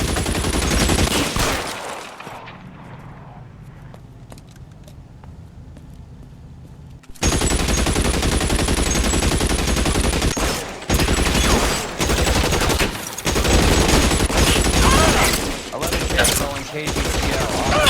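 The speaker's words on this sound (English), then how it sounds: "Shots fired. Officers need help" Sustained bursts of rapid gunfire in the video game L.A. Noire, loud and dense, broken by a quieter lull of a few seconds before the shooting resumes in heavy volleys.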